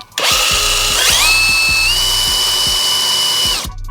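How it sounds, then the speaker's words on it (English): A power drill whines loudly and steadily for several seconds, its pitch rising as it bites into a car's metal frame support, with a regular low rattling pulse underneath. "I'm gonna drill some holes in the frame support here"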